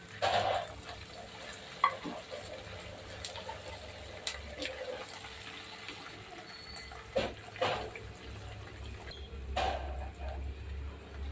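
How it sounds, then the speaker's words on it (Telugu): Curry leaves and kasuri methi frying with onions for gongura chicken: a low sizzle broken by intermittent clatters and utensil knocks, with occasional watery splashes and no clear speech. "దాని తర్వాత కొంచెం కస్తూరి మెంతి కూడా వేస్తున్నాను."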